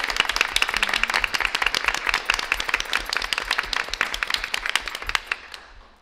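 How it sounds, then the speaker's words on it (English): Applause at a school board meeting for an elementary student, with crisp individual hand claps close by over a broader crowd, steady throughout and cutting off sharply near the end. "I will ask the student to please rise to receive his applause"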